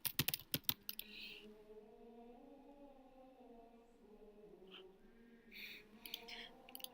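Computer keyboard typing during a game design session: quick bursts of close, crisp key clicks at the start and again near the end, with someone talking in between.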